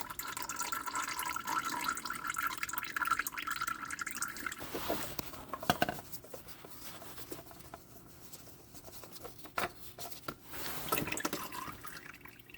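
Motor oil from a 2022 Honda Civic Hatchback 2.0L drains into a drip pan, giving a continuous trickling, splashing pour with scattered drips, fairly quiet and close.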